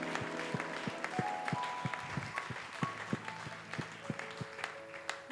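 A church congregation claps together in a steady, even rhythm, many hands striking in unison over soft sustained music tones.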